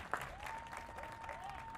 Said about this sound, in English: There's my applause.